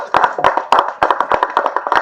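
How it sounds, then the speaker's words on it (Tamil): An audience at the Thookudurai film press meet claps, a brief burst of close, fairly loud, irregular hand claps from a small group. "தயவு செஞ்சு நீங்களே ஒரு தடவை கைத்தட்டிருங்க"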